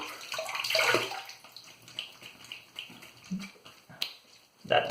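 Cold tap water runs and splashes in a sink during a shave, broken up by irregular close splashes and rinsing bursts, with small clicks and taps from handling the razor and a louder splash at the end.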